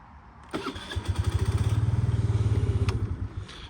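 Electric starter cranking a Suzuki Address V50 G fuel-injected four-stroke scooter, a rapid rhythmic churning that catches into a brief engine burst, then fades in a short close-up recording.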